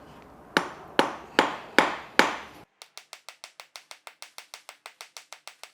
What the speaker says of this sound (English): just do a few taps on one, then rotate and go a few taps on the other